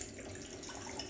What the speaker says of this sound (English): I will add water in this.